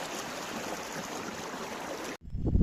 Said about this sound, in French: J'adore ce petit ruisseau.